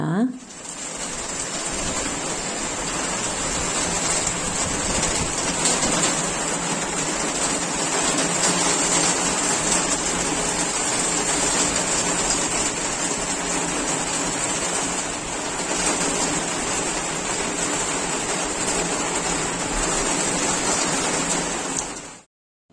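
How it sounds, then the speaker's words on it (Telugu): Heavy evening rain falls outside a home in a continuous, loud roar that holds steady for about twenty seconds before cutting off abruptly. "సాయంత్రం పొడుకుని లేచేసరికి ఫుల్ వర్షం పడుతుందన్నమాట"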